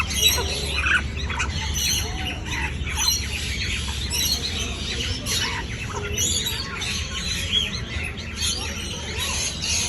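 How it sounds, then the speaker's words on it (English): A hungry chicken squawks and clucks repeatedly up close while pecking food from a hand, with other birds chirping in a continuous, busy background. "You seem very hungry, Mr. Chicken."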